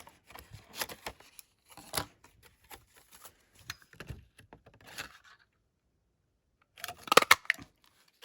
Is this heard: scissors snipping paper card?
yes